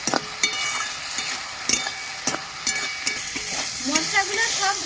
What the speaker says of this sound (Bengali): ভালো করে সব মশলা কষিয়ে নিচ্ছি